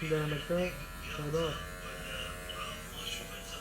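One barber shaves another with an electric razor, a steady close buzzing that keeps running while men chat over it.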